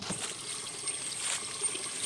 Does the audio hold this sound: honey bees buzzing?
no